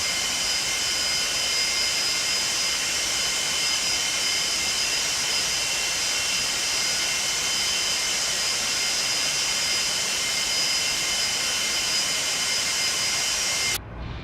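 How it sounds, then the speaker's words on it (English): Boeing 747-200 jet engines spooling up for takeoff in the X-Plane 12 flight simulator: a loud, continuous roar with a steady whining tone held evenly throughout, cutting off abruptly at the very end. "listen to those engine sounds"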